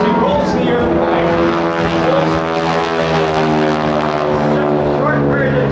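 A North American Aviation advanced trainer propeller plane rolling at a riverfront airshow, its engine droning loudly and steadily with a rising and falling pitch as it maneuvers, an announcer talking over it.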